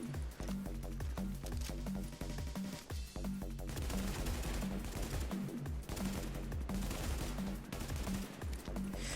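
Rapid Vector SMG gunfire in The Division, with loud continuous automatic bursts and repeated shots layered over a dense, busy game soundscape that stays at a constant high level.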